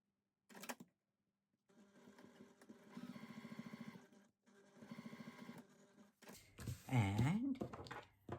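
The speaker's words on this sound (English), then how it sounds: "Now again, I'm going to just edge stitch the bottom." Sewing machine edge stitching the bottom of a cotton wallet, running in two steady motorized bursts of a few seconds each with brief pauses, followed by a louder rustle of fabric handling.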